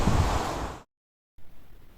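Strong wind buffets the microphone with a loud rushing roar, cuts to silence, then returns as a softer gusty hiss.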